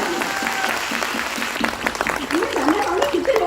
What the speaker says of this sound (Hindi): और एक बार जोरदार तालियां अपने लिए बजाएं, जोरदार तालियां।